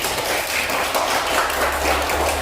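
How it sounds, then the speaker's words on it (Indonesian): A classroom of students applauds a classmate after her practice turn, a short burst of dense, steady clapping filling the room from close by. "tepuk tangan buat Queen"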